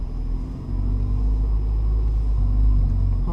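Car engine with a manual transmission in a parking lot, rumbling steadily near the listener and swelling slightly as the throttle rises, a low continuous drone alone with no talk.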